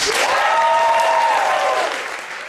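Loud audience applause at an improv comedy show, thick clapping with a rising whoop over it, sustained before fading slightly at the end.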